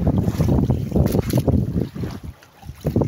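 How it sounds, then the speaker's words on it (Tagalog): Strong sea waves slap against a small boat out at sea at night, with gusty wind buffeting the microphone. The surges are loud and close, with no talk. "Talagang malakas pang alon."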